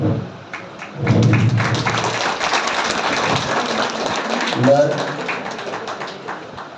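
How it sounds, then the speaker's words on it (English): Audience at an International Women's Day felicitation applauding, a steady patter of many hands clapping that continues for several seconds, with a voice speaking over it. "I would like to hear more applause from you."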